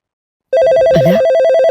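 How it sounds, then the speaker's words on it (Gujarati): A telephone rings loudly and close, one steady electronic ring tone that starts abruptly after a short silence and carries on to the end, with no one speaking. "ફોન આવ્યો"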